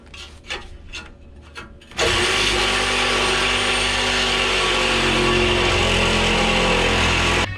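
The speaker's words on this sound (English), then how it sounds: "I'm going to go ahead and get my Sawzall and cut through those welds" A Sawzall reciprocating saw cuts through welds on a Mustang GT. A few light scrapes come first, then the saw starts abruptly and runs as a loud, continuous, close buzzing grind for about five seconds.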